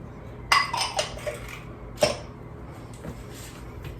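Two eggs go into a mixing bowl for toffee chocolate chip cookie dough, giving two close, sharp clinks and plops about a second and a half apart, with a quiet kitchen and no talking between them.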